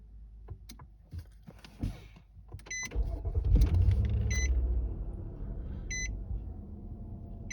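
A car engine cranks and catches, settling into a steady low idle rumble, with a few short dashboard electronic chimes beeping over it as a tire maintenance alert shows.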